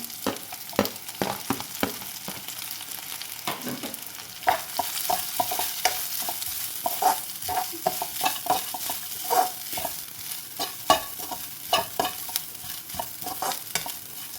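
Grated coconut and curry leaves sauté in a pan for a fish curry, a continuous sizzle broken by frequent spoon scrapes and stirring taps, close and without talk.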